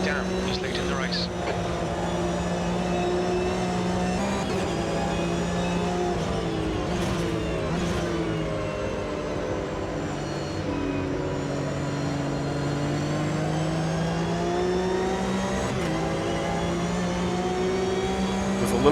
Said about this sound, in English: getting a bit of a draft here from Mansilla, heading into turn 1 and making that pass